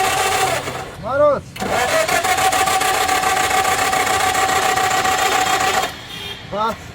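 A diesel engine fitted with a repaired Denso diesel pump cranks in a rapid rhythmic chug for several seconds, then stops, loud and close, with people talking before and after.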